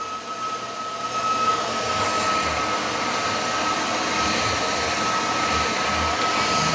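A Roborock F25 Ace wet/dry vacuum runs in max mode at maximum suction, giving a steady, loud motor whir with a faint high whine, rising just after the start and then holding constant.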